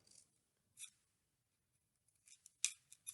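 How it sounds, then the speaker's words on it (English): Scissors snip the ends of paper daffodil petals in a few quick, crisp cuts, one short pair of snips followed by a faster cluster, close and quiet in an otherwise silent room. "what I'm going to do is I'm just going to cut the ends a little bit"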